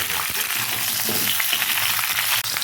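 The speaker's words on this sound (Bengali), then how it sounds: "আমি আমটা ভালো করে ভাজবো" Raw mango pieces frying in a pan, giving a dense, close crackling sizzle with occasional soft stirring scrapes, steady throughout and with no voices.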